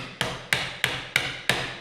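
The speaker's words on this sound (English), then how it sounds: "once again use the putty knife and the hammer" A hammer taps a putty knife to free a window that is painted shut in an old house, five sharp evenly spaced metallic strikes about a third of a second apart, loud and close with no talk.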